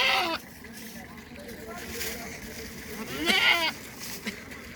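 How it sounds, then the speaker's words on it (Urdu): Mountain goat at a livestock market bleating twice, a wavering call at the start and another near the end, over a busy crowd murmur and some nearby talk. "یہ پہاڑی بکرا"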